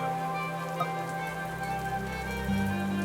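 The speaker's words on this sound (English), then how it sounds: "Just like that, it's raining more." Steady rain patters on surfaces within VRChat, a dense even hiss with a low hum beneath that shifts tone partway through, no voices.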